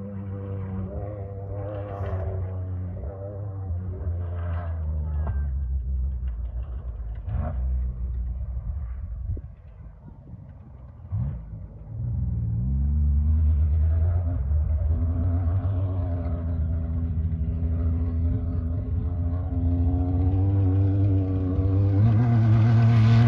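A Class 1 desert race truck drives through a slow 25 mph zone during a desert race, its engine rumbling low and steady, easing off briefly, then surging and revving louder as it pulls away.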